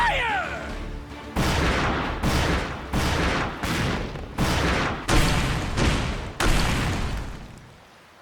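A crew's volley of gunfire in Like a Dragon: Pirate Yakuza, a pirate-era video game: about eight loud booming shots fired in an uneven sequence roughly a second apart, each trailing off, with no talking.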